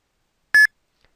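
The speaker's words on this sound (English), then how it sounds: "you get the nice little beep indicating that the payment's been sent" A single short electronic beep from the Kryptokit Bitcoin wallet confirming a payment sent, clear and close, with a faint click shortly after in otherwise silent surroundings.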